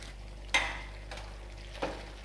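Fried paneer pieces are stirred in a pan for chili paneer, with two sharp utensil scrapes and clinks against the metal over a low steady hum.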